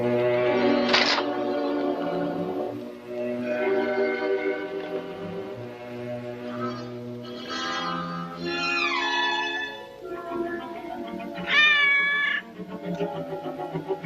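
A cat meows repeatedly in a 1940s Sherlock Holmes film scene, long drawn-out cries with rising and falling pitch, loud and close, with no talk over them.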